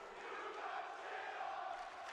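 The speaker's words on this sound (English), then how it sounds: "Crowd on their feet for very good reason." Esports arena crowd at a Call of Duty League Major tournament roaring on their feet after a 2v1 gunfight, a loud, sustained wall of cheering and shouting with no break.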